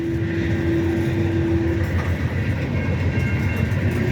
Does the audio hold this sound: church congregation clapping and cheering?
no